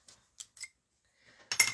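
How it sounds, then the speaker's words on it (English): Scissors snip at a length of linen thread at a paper-crafting table: a few faint, sparse clicks, then a louder, brighter burst of cutting close by, with no talking. "And my scissors."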